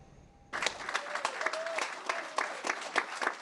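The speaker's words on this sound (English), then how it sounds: "Loud applause as Governor Ron DeSantis signed a bill into law Wednesday" Loud applause breaks out at a bill signing by Governor Ron DeSantis, a sudden burst of close clapping from a crowd that stays steady and dense until the end.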